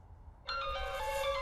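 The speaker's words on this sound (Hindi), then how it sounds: "अरे भाई का फोन आ रहा है यार।" A phone rings in a tense crime-drama scene, a faint low hum first, then a bright electronic ringtone that starts abruptly and sustains as a warbling tone.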